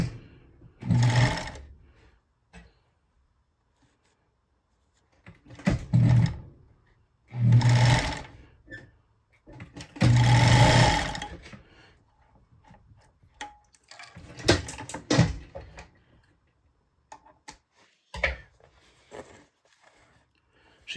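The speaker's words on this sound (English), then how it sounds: "These fur machines, they were designed for this, and man, do they work great." A Bonis fur sewing machine stitching beaver fur gauntlets, rapid mechanical ticking bursts of a few seconds each separated by pauses, close and clear.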